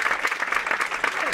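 Audience applause for dancers and a performer at a radio studio show, short and steady, with a voice over the clapping.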